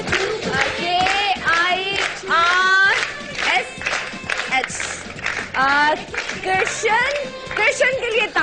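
Studio audience clapping during a morning TV show lucky-draw segment, a broad burst of applause running through the clip beneath a woman's loud, lively talking.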